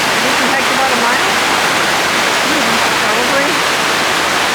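The rapids of Minnehaha Creek at Minnehaha Falls roar loudly and constantly, a dense rushing wash of water with voices talking faintly beneath it.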